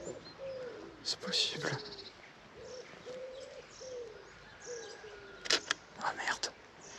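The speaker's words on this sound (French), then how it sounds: "Des petits mésanges." Small tits calling at a garden bird feeder: a few short chirps and twittering notes, fairly faint, with a soft cooing bird and a voice talking quietly in the background.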